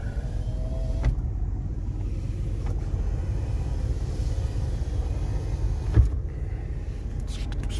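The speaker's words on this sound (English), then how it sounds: "windows on these trucks were extremely fast." Power windows in a 1986 Ford F150 XLT Lariat bullnose pickup hum quickly up and down inside the cab, a soft motor whir over a low idle rumble, with a couple of sharp thumps as the glass stops.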